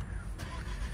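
The engine of a 2021 Cupra Leon car catches in a short burst of broadband mechanical noise, with a sharp crank-like transient before settling into a running rumble.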